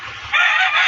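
A rooster crows loudly and close by in the morning, one short strained call heard on its own.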